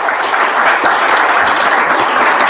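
A conference audience at a Java programming event breaks into steady, sustained applause, a dense wash of many hands clapping throughout without pause.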